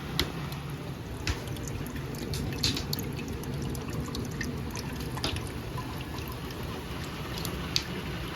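Maple sap runs steadily by gravity through a float feed into an evaporator pan, giving a soft continuous trickle with scattered faint drips, close and even, with no talking.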